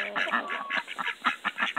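Backyard homestead chickens waiting for their feed cluck and squawk in quick repeated bursts, a close, busy chorus of overlapping calls with no talking.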